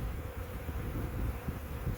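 Steady droning buzz of honeybees swarming around an open hive during a spring inspection, close and continuous with no voices.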